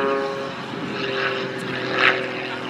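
A full-size propeller aircraft passes over a model air show at Weston Park, its steady drone continuous and moderately loud, swelling briefly toward the end as it draws nearer.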